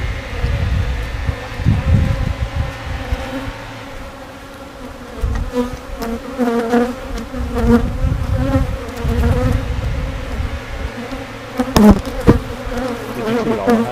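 Honeybees swarm and buzz loudly around an open hive in December, a dense, close drone that swells and fades as individual insects pass near, with occasional handling knocks.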